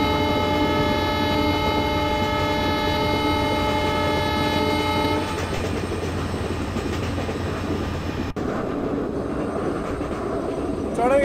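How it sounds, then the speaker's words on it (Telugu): A WDG4 diesel locomotive hauling an express train in Train Simulator Classic, heard as a long, steady multi-tone horn blast over a continuous engine and rail rumble, then a close, loud running roar with a sharp click. "నల్లాయి మెయిన్ లైన్ ప్లాట్ఫామ్ నెంబర్ 2 మీద మన ట్రైన్ ఆగకుండా దూసుకెళ్తుంది"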